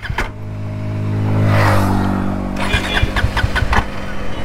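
A Bajaj Dominar motorcycle is cranked, its engine catching in rough, uneven bursts and a low droning hum before sputtering in a quick run of pulses, failing to start; close and fairly loud.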